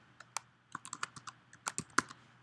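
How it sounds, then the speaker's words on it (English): Typing on a computer keyboard, a quick irregular run of about a dozen close, crisp key clicks in a quiet room. "start typing."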